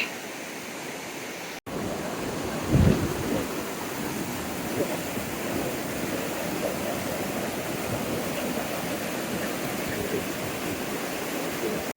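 A waterfall pouring with full force, heard as a loud, steady broadband roar of rushing water that fills the scene after a brief cut near the start.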